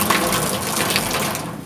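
Water pours out of a container in a steady, close, gushing stream that continues without a break.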